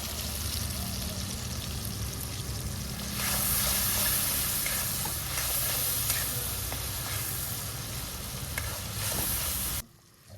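Tomatoes sizzle and fry steadily in a pan with salt and turmeric, a loud continuous hiss with stirring scrapes, cutting off near the end.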